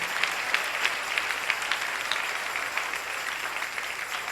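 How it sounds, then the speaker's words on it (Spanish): A church congregation claps through a Sunday morning service, a steady, fairly dense patter of hands heard at some distance with a few sharper claps standing out. "Dale un aplauso al Rey en esta preciosa y bendecida mañana."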